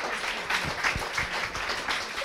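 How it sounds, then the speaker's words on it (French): Audience applause after a French literary talk, a steady wash of many hands clapping, fairly faint and continuous throughout. "Je pense qu'on peut applaudir Sarah."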